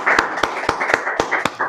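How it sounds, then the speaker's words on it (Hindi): Audience on a quiz show claps in a quick, steady rhythm, sharp hand claps landing about four times a second over a warm crowd murmur. "एक बार सर के लिए जोरदार तालियां।"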